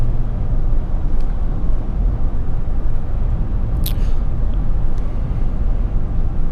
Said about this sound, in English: Except for the exterior wind noise that you hear